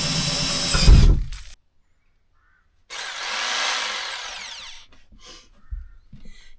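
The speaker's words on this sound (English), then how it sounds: "I'm going to drill a small hole first and then a slightly larger one" A power drill whirs loudly in two bursts separated by a short silence, the second a sustained grinding bore through metal on a Ducato van that winds down into faint scraping.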